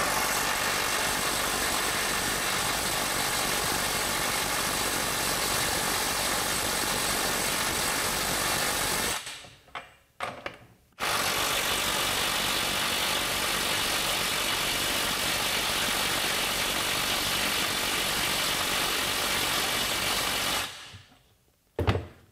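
A $179 cordless impact wrench with battery and charger, rated above 500 ft-lbs, hammers continuously at a loud, dense rattle for about nine seconds, stops briefly with short bursts, then runs again for another long stretch.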